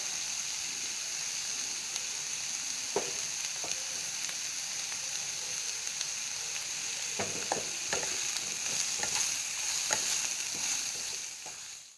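Bitter melon frying with turmeric and salt in an Assamese kitchen, a steady close sizzle with intermittent scraping clicks of a spatula stirring, growing busier toward the end before fading.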